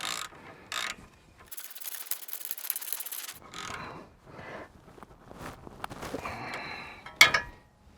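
A wrench ratchets and clicks while tightening 17mm CV boot bolts, with short bursts of metallic ratcheting and rubbing separated by pauses, close and fairly quiet.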